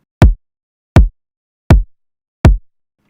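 Four evenly spaced kick drum hits without saturation, each a tight low punch with a crisp click and quick decay, heard alone and close.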